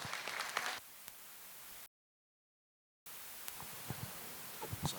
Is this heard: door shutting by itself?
no